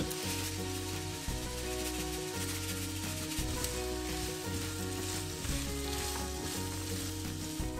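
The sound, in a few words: onion and bell peppers sizzling in olive oil in a frying pan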